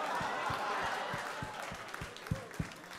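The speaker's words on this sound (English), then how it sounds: "Applaud for the beautiful women" Comedy club audience at the Ice House applauding, a dense wash of clapping with a few louder individual claps, fading gradually with some cheering mixed in.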